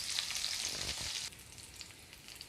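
Okra fries in oil in a pan over a low flame, a fine, steady sizzle that drops noticeably quieter halfway through.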